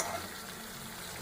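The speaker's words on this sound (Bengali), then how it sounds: "ভালো করে এটাকে কষাতে হবে, যাতে কাঁচা গন্ধটা চলে যায়" Onion, garlic and masala paste frying steadily in a pan for a giant river prawn curry, a soft continuous sizzle with faint stirring, fairly quiet and close with no talking.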